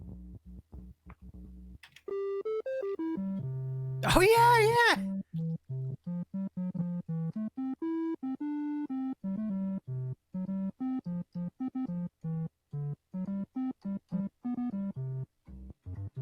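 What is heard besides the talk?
NES-style triangle wave synth tone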